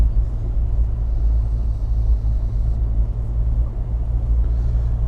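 A small Triumph Herald car driving steadily along country lanes, its engine giving a continuous low rumble that stays loud and close throughout, with no voices.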